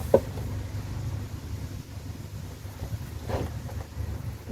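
Wind buffets a microphone outdoors beside a 2008 Ford Focus ST during an oil change, a low rumbling rush with a couple of sharper gusts, faint and with no talk.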